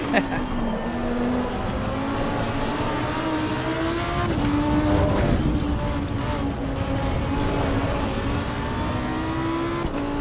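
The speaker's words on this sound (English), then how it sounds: "We're driving in Nordschleife with a Lamborghini Revuelto steering wheel in a Lamborghini Huracan" Lamborghini Huracan engine lapping the Nordschleife in a racing simulator, a steady droning tone rising and falling with throttle, continuous and fairly loud for the whole stretch, with talk running beneath it.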